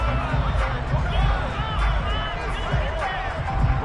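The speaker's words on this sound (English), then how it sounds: "How about some applause for the defense there?" Crowd noise from a large stadium audience at a football game, a steady roar of cheering and clapping with scattered whoops, continuous and loud throughout.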